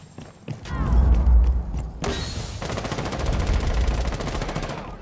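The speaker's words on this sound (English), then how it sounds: "Cooking grenade." A grenade blast in the tactical shooter Rainbow Six Siege rings out amid heavy game gunfire, with a sharp burst near the midpoint followed by sustained crackling shots and rumble.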